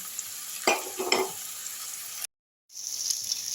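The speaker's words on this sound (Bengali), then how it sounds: "আস্তে আস্তে করে আমি মশলাটাকে এখন কষিয়ে নিচ্ছি" Spice paste with ginger and garlic is slowly stir-fried for mutton curry, making a soft, close sizzle broken by a couple of scraping stirs, then a brief cut to silence before the sizzling resumes.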